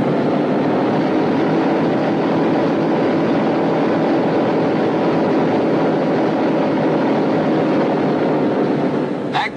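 Four radial engines of a B-17 bomber running together during pre-takeoff checks, a loud, steady droning rumble that holds constant throughout with no voices.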